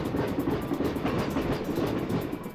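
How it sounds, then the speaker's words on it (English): Train ride in the video game Devil Summoner: Raidou Kuzunoha, a steady rumbling rail hum with faint rhythmic clickety-clack of wheels, continuous and moderately quiet with no voices. "let's go ahead and get on the train and make our way back to Ginzacho."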